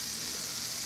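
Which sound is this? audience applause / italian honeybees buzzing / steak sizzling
steak sizzling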